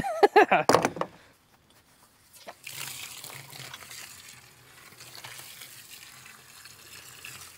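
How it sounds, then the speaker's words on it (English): A few sharp scraping, stirring knocks at the start, then a steady wet pouring and sloshing sound as water is added to a concrete mix, continuing at moderate level to the end. "Let's add a little bit of water here."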